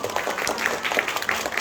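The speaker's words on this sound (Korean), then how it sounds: "자, 박수 해주세요. 한 번 더." A church audience at a Bible recitation contest gives a short burst of dense clapping, steady and fairly close, lasting under two seconds.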